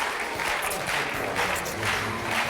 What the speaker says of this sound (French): On applaudit fort Gariba, s'il vous plaît.